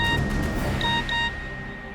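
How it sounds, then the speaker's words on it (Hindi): A phone message notification sounds as two short, clear electronic beeps in quick succession. They rise above a dull, noisy room background. "ईशा का मैसेज आया है"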